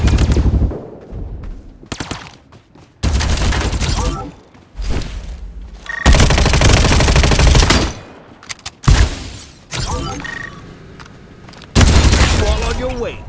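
Gunfire in the shooter game Farlight 84 comes in loud, dense bursts of rapid shots and booms, broken by short lulls, with game voices calling out between the volleys.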